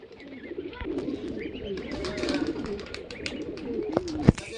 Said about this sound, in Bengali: আর এটা মাদা পায়রা।